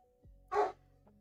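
A single dog bark, short and moderately loud, rises over a quiet indoor background, preceded and followed by faint low hum.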